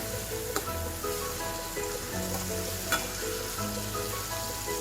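Chopped potatoes fry with onion and tomato in oil for a dry masala vegetable dish, making a continuous close sizzle with a couple of sharp stirring knocks and no talking.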